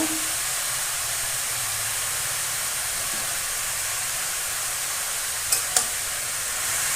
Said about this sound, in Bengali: ভালো করে নেড়ে নেব লবণ হলুদটা একটু মিশিয়ে দেবো